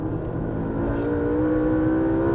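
A car engine revs hard and steady at 8,500 RPM, a loud continuous whine with strong harmonics that holds throughout, close by.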